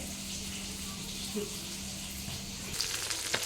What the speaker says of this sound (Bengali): এই যে এখানে হচ্ছে মাছ ভাজা